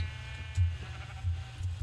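Sheep bleating in Minecraft, a few short bleats from a couple of sheep over a low hum, each call near and clear.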